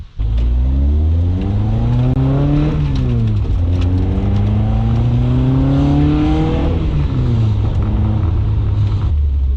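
Toyota KE70 Corolla engine running steadily while driving, its droning note rising and falling through several gear changes, loud and close for the whole stretch with no talk.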